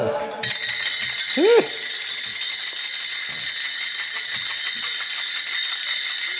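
Tal hand cymbals ring at a Marathi kirtan, a dense metallic shimmer that starts sharply and runs steadily throughout, with a brief sung or voiced swoop near the start.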